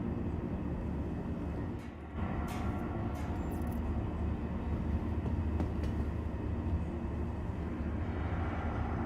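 Star Citizen transit capsule train pulling into a station: a steady, loud rolling rumble with a deep low hum that holds for the whole stretch, broken only by a brief dip and a few faint clicks near the start.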